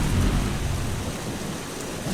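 Steady heavy rain pours over a low rumble of thunder in the video game Eschalon: Book II, a continuous wash of noise with no voices.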